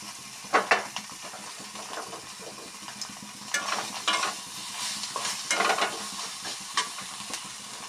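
Dried fish and garlic fry in a pan with a steady low sizzle, broken by louder scraping bursts of stirring at irregular intervals, near and without talk.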